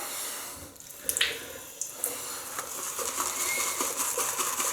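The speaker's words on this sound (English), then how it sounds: "Wet the brush under the tap this time." Water runs steadily from a tap onto a shaving brush with a broadband hiss, broken by a few sharp drips and splashes near the start, fairly close.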